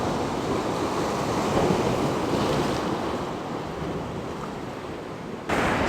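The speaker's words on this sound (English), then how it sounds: "Just have a look at the power of these waves." Powerful ocean waves crash and roar against the Tasmanian coast at night, a heavy continuous surge mixed with gusty wind noise on the microphone. No one speaks.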